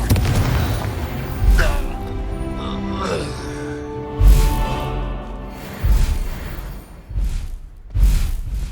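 Confringo blast spells fired in the video game Hogwarts Legacy: several booming, thudding explosions a couple of seconds apart, loud and heavy, over game music and ambience.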